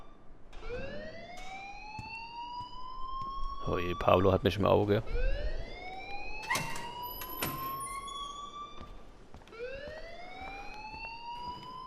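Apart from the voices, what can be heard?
alarm ringing in the video game Life Is Strange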